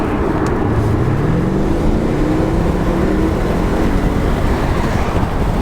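A 2008 Mercedes-Benz CLS 550 accelerating hard, its engine roaring loud and close with rising pitch sweeping upward through the gears, a brief exclamation from someone inside over the steady drone.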